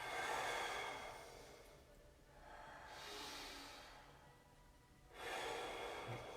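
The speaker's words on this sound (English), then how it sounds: "So nice deep breaths in through the nose" Slow, deep breaths drawn in through the nose and let out, three long broadband swells of air close to the ear with quiet pauses between, no talking.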